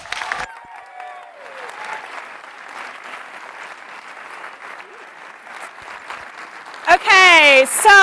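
Audience applause greets the evening's moderator at a Glee fan event, a steady patter of clapping under someone speaking throughout, with a loud cheer rising near the end.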